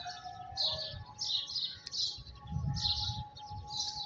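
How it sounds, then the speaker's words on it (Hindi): Pigeons and small birds call in repeated bright bursts over a low, steady outdoor rumble at the Shrine of Bahauddin Zakariya in Multan, Pakistan. "ये आपको कबूतर दिखाते हैं। ये कबूतर है"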